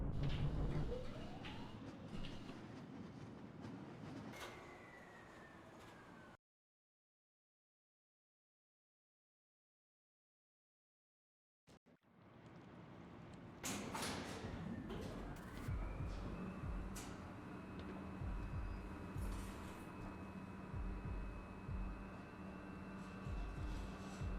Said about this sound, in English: Oh, there's a very slow train elevator.